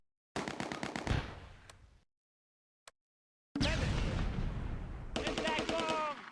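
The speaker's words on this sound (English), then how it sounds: "The Bren starts firing again." Bren light machine gun in the Close Combat war game rattles off close, loud bursts of rapid fire, goes silent with one isolated shot, then resumes with longer sustained bursts.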